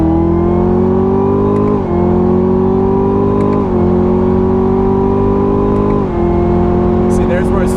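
A 2017 Chevrolet Camaro ZL1 with a ten-speed transmission pulls hard from inside the cabin, its engine note rising steadily and dropping at each of three upshifts, loud and continuous throughout.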